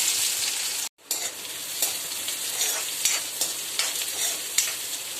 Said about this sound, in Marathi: तेल चांगलं गरम झालेलं आता जिरं टाकते मिरची हिरवी मिरची कांदा